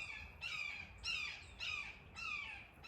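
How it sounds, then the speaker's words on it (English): A hawk calls four times in a row, sharp squawking cries at an even pace, moderately close and clear over a soft background hiss. "That's a hawk."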